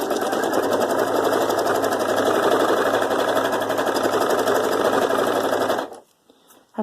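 A sewing machine with an embroidery foot stitches fabric scraps at a steady, fast pace. The close, even mechanical whir runs for about six seconds and then stops abruptly.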